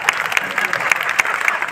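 An audience at a Hindi kavi sammelan poetry gathering claps, with scattered sharp claps in an uneven patter heard alongside talk.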